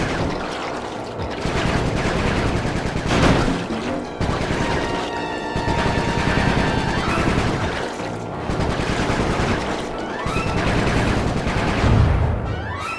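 Heavy, sustained gunfire and crashing blasts rattle through a Sly 3 video game fight, with rapid bursts and short gaps repeating loudly across the whole stretch.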